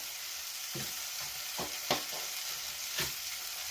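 Egg masala with chili powder sizzles steadily in a pan while a spoon stirs it, scraping in several distinct strokes over the constant frying hiss.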